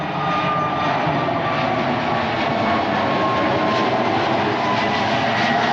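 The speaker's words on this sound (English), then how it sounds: "There's another plane." A jet airliner roars loudly and steadily overhead as it climbs after takeoff in London, a continuous broad engine rumble with no voices.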